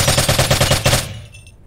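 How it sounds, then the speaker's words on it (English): Rapid automatic gunfire in a competitive Call of Duty Warzone tournament match, a steady burst of roughly ten close, loud shots over about one second, then fading into quieter game ambience. "They're under fire here."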